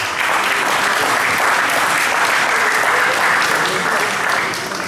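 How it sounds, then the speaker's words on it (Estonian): Sustained audience applause at a Tartu ballroom dance cup competition, dense and steady clapping from a large crowd throughout, without speech. "Teeme aplaus neile"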